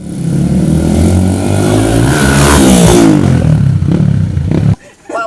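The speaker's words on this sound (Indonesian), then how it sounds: "Menggunakan knalpot racing atau brong dapat mengganggu kenyamanan lingkungan dan sesama pengguna jalan." Motorcycle fitted with a loud aftermarket racing exhaust revs hard, its rising and falling engine note blaring close and loud before cutting off abruptly near the end.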